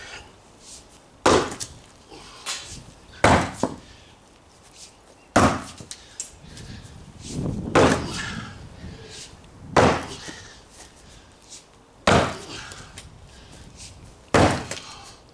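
Heavy sledgehammer blows break up a concrete slab outdoors during lawn preparation, about eight loud, sharp impacts spaced a second or two apart, with crunching debris and heavy breathing between strikes.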